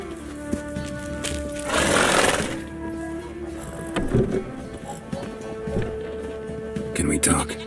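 Roach, a horse in The Witcher 3, gives a loud whinny near the start, and hoof clops and game ambience follow, with a voice speaking over part of it.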